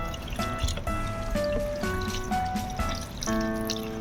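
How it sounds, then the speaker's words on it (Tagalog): Water pours steadily into a cooking pan while Spanish-style bangus is prepared at home, a continuous trickling splash whose pitch shifts as the pan fills, with no talk. "Lalagyan natin ng konting tubig."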